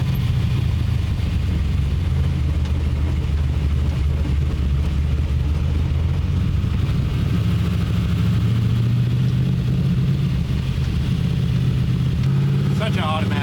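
A small block Chevy drag car with an 8HP70 automatic gearbox and a big hood scoop drives along, its engine rumbling loudly and steadily with gentle shifts in pitch. Voices are partly masked by the engine.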